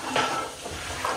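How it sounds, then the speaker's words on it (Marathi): Chopped onion frying in a home-kitchen pan for palak paneer bhurji: a short burst of hissing sizzle mixed with the clatter of a utensil against the pan, close and fairly quiet. "आता मस्त की कांदा फ्राय होतोय"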